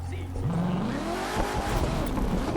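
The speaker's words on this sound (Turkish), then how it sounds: "Şu tire smoke'lara da bayılıyorum." In The Crew 2, a Corvette C7 ZR1 convertible revs with a rising engine pitch and a loud, continuous tire squeal, with a voice talking over it.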